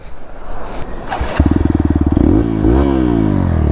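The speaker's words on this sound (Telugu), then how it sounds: "దీనికి సౌండ్ చూడండి, ఎగ్జాస్ట్ మార్చాడు రాము, అందుకే." A Hero Xpulse 200 4V motorcycle fitted with a modified exhaust fires up on a beach, settling into a loud, close, rapid thumping beat before the engine note rises and swells.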